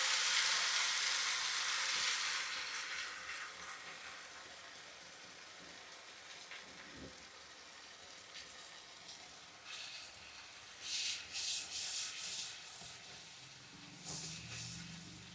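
Onion with cashew, green chilli, ginger and garlic paste frying in oil, a soft steady hiss that is louder at first, then settles into a quiet sizzle with light stirring scrapes near the end, without talking.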